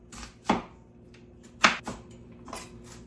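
A knife chops through a whole onion on a cutting board, three sharp, separate knocks spaced about a second apart, close and clear against a quiet kitchen.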